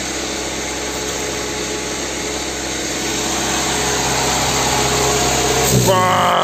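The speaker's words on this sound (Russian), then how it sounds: "Подсос воздуха и работа двигателя сразу. Он начинает глохнуть." An idling VW Passat B3 engine with a single-point injection air leak gives a steady, loud mechanical whirr that grows slightly louder, then changes pitch and falters near the end.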